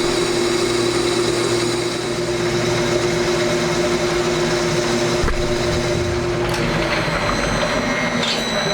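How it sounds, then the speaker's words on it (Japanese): A machine tool boring a bearing bore in a small motorcycle engine part runs with a steady, loud mechanical whine and hum, a continuous cutting drone with a brief clunk partway through. "ドリルが終わったらベアリングの入る中ぐりを進めていきます。"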